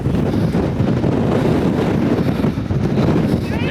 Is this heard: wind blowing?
yes